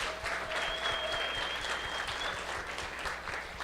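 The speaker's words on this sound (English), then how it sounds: "Give a round of applause to Blue Star and the servers." A bar crowd at an astronomy talk night gives a lively round of applause, a steady wash of clapping with a few faint whistles riding on top, and no speech.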